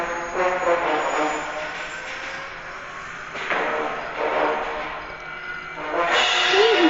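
Helicopter escape sequence in the video game Granny 2: a steady, loud rotor-and-engine roar that swells in a few surges and fills the whole stretch without any voices.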